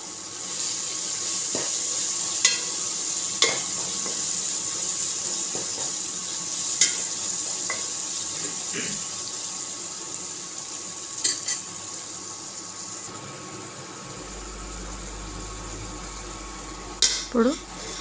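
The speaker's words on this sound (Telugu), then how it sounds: "చూసారా ఈ విధంగా టమాటాలు బాగా వేయించుకోవాలి" Tomatoes frying in a pan for Nellore-style fish curry, a steady sizzle running throughout with a few sharp clinks of a spoon against the pan, and a brief burst of stirring near the end.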